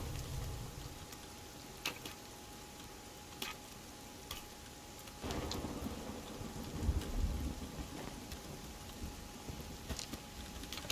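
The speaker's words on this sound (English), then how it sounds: "Thank God the rain put me out." Steady rain hisses in the survival video game Sons of the Forest, with a low rumble of thunder swelling midway and a few sharp ticks and cracks scattered through.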